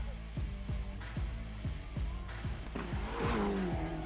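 Several cars race past in quick succession on a road, each a loud rising-then-falling engine sweep with tire squeal and skidding toward the end, followed by a sustained screech.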